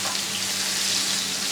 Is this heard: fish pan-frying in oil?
yes